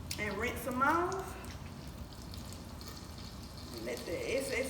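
Water runs and splashes steadily from a tap over cooked spaghetti in a strainer, with a person talking over the first part.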